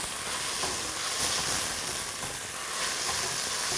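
Onions frying in a pan for a homemade mujaddara, a steady close sizzle with constant hiss and no break.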